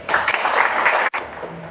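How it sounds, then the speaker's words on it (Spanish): A crowd at a May Day protest march and rally in Villa El Salvador, Peru, breaks into loud sustained applause, a dense wash of clapping that cuts off briefly near the end before resuming. "Fuertes palmas para ustedes."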